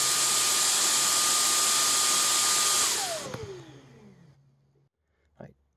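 A Kyvol V20 cordless stick vacuum cleaner runs on high suction with a loud, steady whine, then switches off and its motor spins down. A short thump follows.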